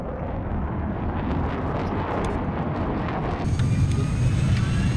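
Airplane engine in the video game Battlefield 4, a steady loud roar with rushing wind noise that grows heavier and louder near the end.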